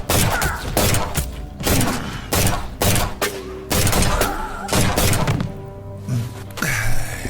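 Rapid gunfire rings out in a Judge Dredd audio drama, dense bursts of loud, cracking shots and heavy impacts that pound on without pause.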